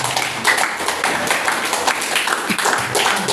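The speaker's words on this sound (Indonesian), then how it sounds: "Tepuk tangan semua." An audience at a business seminar claps together in a dense, steady burst of applause, with sharp individual hand claps standing out across the continuous patter.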